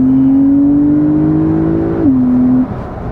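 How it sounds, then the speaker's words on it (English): A Porsche sports car engine revs up in sport mode with a rising whine, holds briefly, then drops back down to idle; close and fairly loud, no talking. "obviously engine noise is louder"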